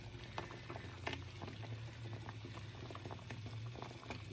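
A pot of water at a steady boil as plantain salve pellets melt, giving a continuous low bubbling and popping simmer, close and fairly quiet, with no voices.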